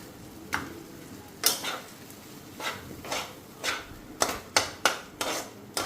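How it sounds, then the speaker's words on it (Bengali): Dried fish (shutki) goes into a hot pan and is stirred, giving soft sizzling under a series of sharp spoon-against-pan scrapes and knocks that come irregularly at first and then in a quicker cluster near the end. "তো এটার মধ্যেই শুটকিটা দিয়ে দেবো, শুটকিটা দিয়ে দিলাম।"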